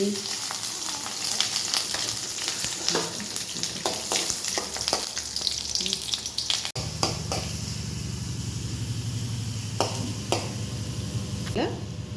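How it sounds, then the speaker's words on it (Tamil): Kuzhipaniyaram batter poured from dosa batter into the pits of a kuzhipaniyaram pan sizzles and fries steadily throughout, with a louder low crackle taking over partway through and a few light clinks over the continuous hiss. "குழிப்பணியாரம் சட்டியில் குழிப்பணியாரம் ஊற்றினா ரெடி."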